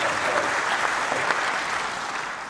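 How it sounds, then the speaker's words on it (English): A conference audience claps steadily, a dense, sustained round of applause filling the hall from start to finish. "Yes, you can applaud that as well."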